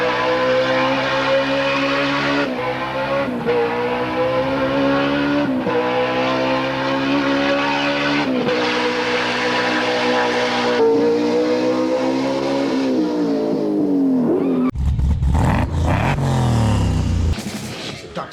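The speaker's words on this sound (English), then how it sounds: "We've got ourselves a Holden V8 Stroker." Holden V8 383 stroker engine revving hard on a dyno, a loud sustained roar with repeated throttle blips and pitch swings, ending in a harsher crackling burst near the close.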